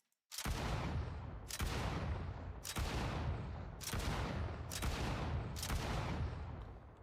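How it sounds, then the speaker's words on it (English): Shotgun blasts from a COD Zombies-style Unreal Engine 5 game: six loud, booming shots fired at a steady pace of roughly one per second, each with a sharp crack and a rumbling tail, with no talking. "Now the shotgun thing should work. Let's see. Okay, let's buy the shotgun. It should work. It should shoot 10."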